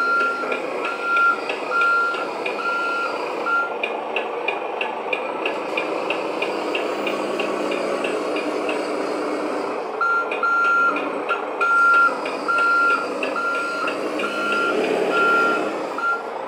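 A Double E 1/14 scale Volvo 6x6 hydraulic RC dumper truck reversing, its electronic backup beeper repeating steadily over a whirring motor sound throughout.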